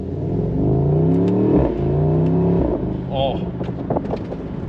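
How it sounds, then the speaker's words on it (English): A 2024 Mercedes-AMG SL63 revs hard, its engine note climbing and dropping, then sharp exhaust crackles and pops with a hissing blow-off valve burst as the revs fall; a man exclaims briefly over it. "crackles and pops, and we have blow-off valve sounds"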